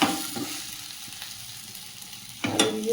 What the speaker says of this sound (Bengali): আর একদিকে সেই হাইব্রিড মাছের মাথা ভাজা হচ্ছে